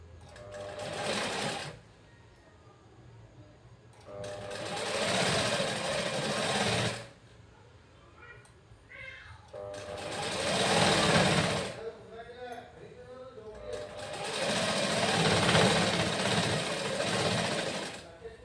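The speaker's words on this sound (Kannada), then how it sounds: "ನಾವು ಮಷಿನ್ಗೆ ಸ್ಟಿಚ್ ಮಾಡಿ ಬರೀ ನಿಮ್ಗೆ ಸ್ಟಿಚ್ ಮಾಡೋದಷ್ಟೇ ನಾ ತೋರಿಸೋದು" A sewing machine stitches a blouse in four long bursts separated by short pauses, the motor whirring loudly and close, with quieter handling sounds in the gaps.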